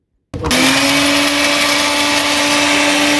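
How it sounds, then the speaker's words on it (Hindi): Electric grinder powering up after a brief silence and running loud and steady, grinding roasted fennel seeds and cardamom into powder, a constant high whine with no talking. "नेक्स्ट स्टेप में हम भुनी हुई सौंफ और इलायची को ग्राइंड करने लगे हैं।"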